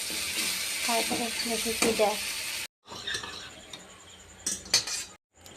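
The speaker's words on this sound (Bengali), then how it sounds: "আদা কুচি পেঁয়াজ কুচি দিয়ে একটু ভেজে নিতে হবে" Oil sizzles steadily as chopped ginger and onion fry, with stirring and a few utensil clinks, the hiss dropping out briefly twice before resuming.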